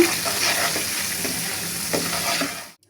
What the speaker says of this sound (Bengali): ধনিয়া গুঁড়া ভালো করে নেড়ে ছেড়ে দিব